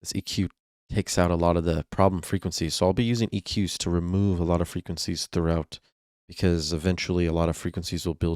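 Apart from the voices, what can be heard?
No everyday noises stand out.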